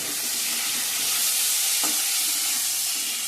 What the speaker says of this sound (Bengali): আলু পটলটা ভালো করে ভাজা ভাজা হয়ে গেছে।